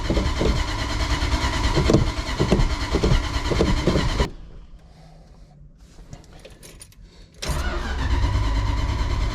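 A car engine cranks on its starter without catching, a loud, steady grinding churn that stops abruptly, leaving a few seconds of quiet clicks before the loud cranking resumes.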